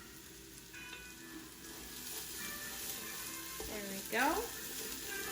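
Onions with ginger and garlic sizzling in a pressure cooker pot, a soft steady frying hiss with a brief louder burst as the pan is stirred, and a short spoken remark.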